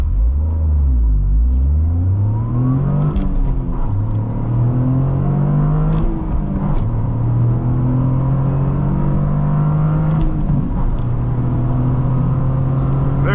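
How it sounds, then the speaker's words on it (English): A 2023 Toyota Corolla GR accelerating hard from inside the cabin, its engine rising through the revs in repeated climbing pulls, with gear changes between them, loud and continuous over a road rumble. "All right, so we're going to do our first acceleration test."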